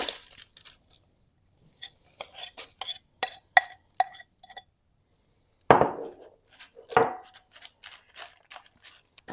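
Sticky chocolate slice dough scraped and dropped into a baking dish, a run of close, sharp clinks and taps with two louder soft thuds midway as the mixture lands, no voices.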